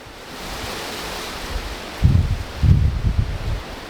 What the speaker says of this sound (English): It is obviously super windy.